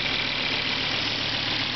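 A 2000 Volvo S70 with a 2.4-liter California-emissions engine idling, a steady mid-pitched running hum with faint knocking texture, close and continuous without speech.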